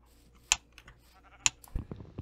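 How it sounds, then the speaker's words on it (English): Two short sheep bleats from a Minecraft game sound about a second apart, clear and isolated, followed by soft clicking keyboard-like taps near the end. "there's enough sheep for me to"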